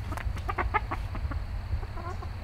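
Chickens in a backyard flock's chicken run give a quick burst of close, soft clucks, then go quiet before a few more clucks near the end, all over a low ambient hum.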